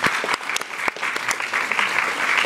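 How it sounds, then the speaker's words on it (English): A church congregation claps hands in a steady, lively wash of applause with sharp individual claps standing out, sustained throughout at moderate loudness. "Come on and clap your hands and thank him for that."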